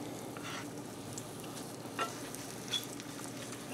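Bacon and cheddar mashed potato cakes fry in a pan with a steady close sizzle and crackle, two faint taps from a utensil briefly rising above the sizzle.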